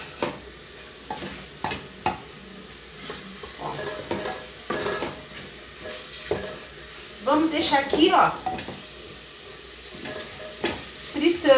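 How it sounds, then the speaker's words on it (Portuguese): Cassava frying in a pan for a home dinner, with a soft sizzle that swells louder around the middle, alongside stirring and the clink of utensils and pots, under casual talk in Portuguese. "Aqui eu vou deixar dar uma fritada, tá? Porque a mandioca já tá pronta."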